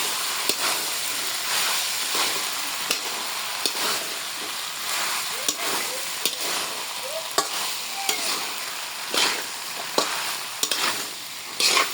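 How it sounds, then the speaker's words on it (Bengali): Chili paste fried with milk is stirred in a pan in a village kitchen, a steady wet sizzle broken by repeated scraping strokes of the spoon, close and fairly loud with no talking. "মরিচ তো কষানো শেষ, দুধ দিয়ে দিব। নাড়াচাড়া দিয়ে করতেছি।"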